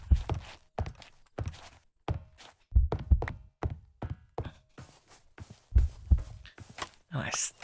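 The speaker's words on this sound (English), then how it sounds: "why do I hear a heartbeat?" A video game's heartbeat warning that plays when the character is nearly out of health from building: steady, fairly loud low thumps that repeat in pairs with some vocal sound mixed in.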